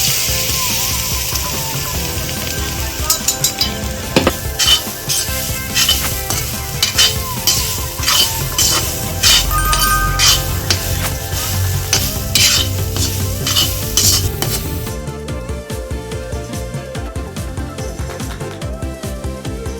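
Grated coconut sizzles and is stirred in hot ghee in an iron pan, with steady frying crackle, close scraping of a spoon against the pan and occasional clinks throughout.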